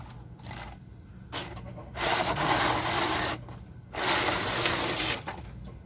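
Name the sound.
sewing machine stitching sweater sleeves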